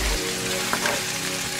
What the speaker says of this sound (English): I have my wok heating up on a medium temperature with about 3 tablespoons of oil.